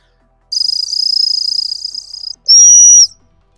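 A dog training stop whistle used with a working Cocker Spaniel: a sustained shrill trilling blast lasting about two seconds, a short pause, then a single loud steady pure tone, close and clear with no talking.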